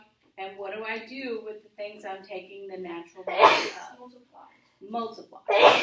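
A sneeze bursts out twice in a classroom during a precalculus lesson, sharp and fairly loud, breaking in among a teacher's steady talk.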